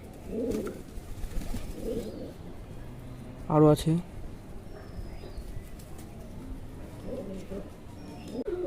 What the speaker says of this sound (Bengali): পটাশ দিয়ে কবুতর স্নান করতে দিলে যেটা হয় গায়ে যে পোকা থাকে এগুলো কিন্তু সব বের হয়ে চলে আসে